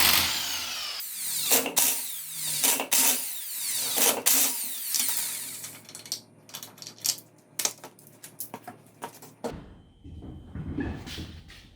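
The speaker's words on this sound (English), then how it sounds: "I'm going to be using the impact wrench. So we'll go ahead and we're going to remove it." Impact wrench removing the rear wheel lug nuts on a 2001 Ford Ranger XLT fires in several short, loud rattling bursts, then gives way to clinks of metal parts and tool handling, with a final clatter.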